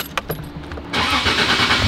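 Toyota JZX100 Chaser engine starting, a brief crank and a clack followed by a loud, close idle that settles into a steady rumble.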